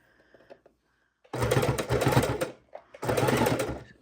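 A sewing machine stitches binding onto a Christmas quilt in two loud, steady bursts of rapid needle chatter, each lasting over a second, with a short pause between them and quiet handling sounds before the first run.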